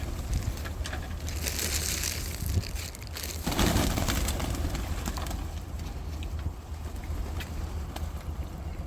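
Pigeons cooing softly outdoors near the Cave of Hira on Jabal al-Nour, over a rough, rustling background, with a brief crunching burst midway through.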